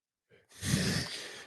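A single long, breathy human yawn, close and fairly loud, rising after a short intake and trailing off with no other sound.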